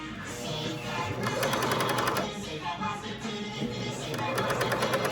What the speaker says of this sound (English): You're gonna go in and top stitch going down. All right, so I'm top stitching I'm top stitching.